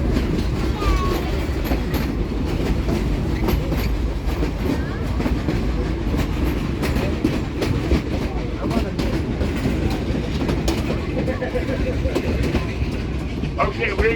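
From aboard the Cumbres and Toltec narrow-gauge train behind D&RGW steam locomotive #484, a dense, steady rumble of rolling cars and clattering wheels runs without a break, and people talk over it now and then.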